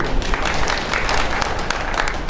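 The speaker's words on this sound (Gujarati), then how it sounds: "એ જવાબ માટે પહેલાં તો તાળીઓ થવી" An audience at a speaking event breaks into loud, dense applause, many hands clapping at once throughout the short stretch.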